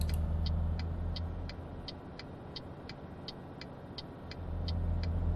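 A truck engine pulling uphill in Euro Truck Simulator 2, a steady low drone that dips slightly mid-way, with a faint regular ticking over it and no talk.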